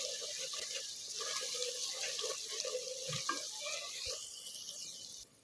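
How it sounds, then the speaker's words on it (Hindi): Water splashes steadily into spiced masala for mutton paya with turmeric in a cooking pot, a continuous close pour that runs several seconds before cutting off. "थोड़ा सा पानी इसके अंदर शामिल करेंगे।"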